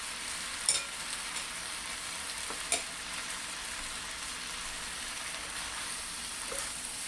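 Cabbage and chicken sautéing in a stir-fry pan give a steady, soft sizzle, broken by two brief clinks of a utensil. No one speaks.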